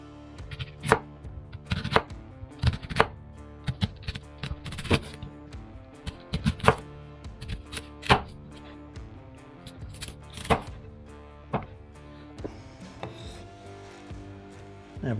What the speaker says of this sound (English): we're just going to slice up some onions